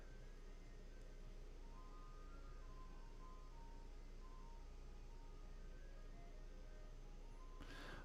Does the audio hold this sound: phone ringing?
no